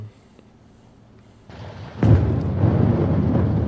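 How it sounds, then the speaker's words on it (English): A big explosion blast from the film Oppenheimer opens with a low rumble, then a sudden loud boom hits and swells into a sustained, heavy roar that keeps rolling to the end. "And now it's the explosion part, like the blast."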